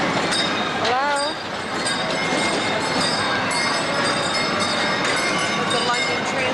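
An old train at the London Transport Museum in Covent Garden rumbles steadily and close, with squealing wheels and rhythmic clatter throughout. People's voices blend into the noise.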